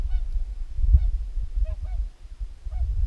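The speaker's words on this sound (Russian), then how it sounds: "Лебеди, лебеди полетели." Several short honking calls from swans flying in pairs over a spring waterfowl hunting ground, spaced irregularly over a steady low rumble of wind or engine noise, moderately distant.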